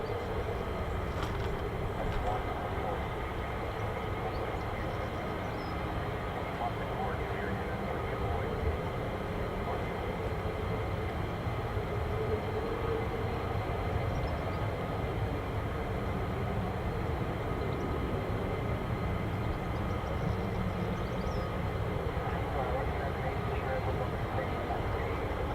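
A military fighter jet taxiing at an RAF airbase, a steady broad engine roar that holds constant throughout, distant and unbroken.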